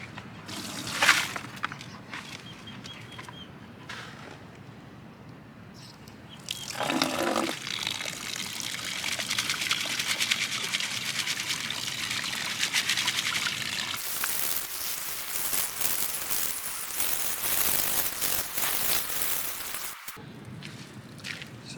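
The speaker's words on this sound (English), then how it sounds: "So I've got my bucket of muck. I'm just going to sieve it first, but not throw anything away." Water pours and trickles through a sieve as a bucket of muck is rinsed, starting with sparse splashes and clatter, then building to a long steady gush that cuts off near the end.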